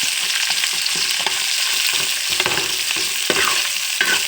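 Cumin seeds, green chillies and onions sizzle in a hot pan for a chukkakura sorrel rice, a steady crackling fry broken by repeated scraping strokes of a spoon stirring the mix.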